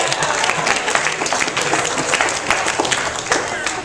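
An assembly audience applauds a volunteer who has just stood up, steady dense clapping filling the room for several seconds with a few crowd voices mixed in.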